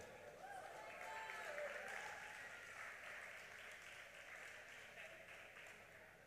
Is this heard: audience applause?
yes